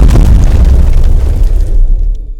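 A crashing cargo plane bursts into fire and explodes in one loud, heavy, rumbling blast that stays dense and roaring before rolling off into quiet.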